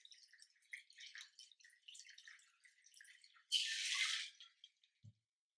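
A Cadillac Margarita is poured from a shaker into a glass: soft dribbling and trickling, then a short louder rush of liquid and a faint knock at the end.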